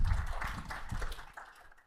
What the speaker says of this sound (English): let's give him a round of applause as a welcome